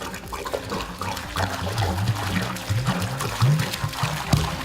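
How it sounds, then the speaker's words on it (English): Liquid poured and splashing onto horse stall bedding made of repurposed material, a steady close trickling pour with small splashes throughout, no voices. "A little splash like we normally get."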